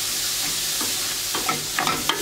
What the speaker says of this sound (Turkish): Ben bu sefer öncelikle soğanı kavuracağım.